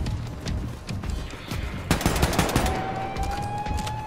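Rapid bursts of automatic gunfire ring out in Wolfenstein 2: The New Colossus. The shots are loud and clustered, with a sharp volley midway and a rising electronic tone trailing after.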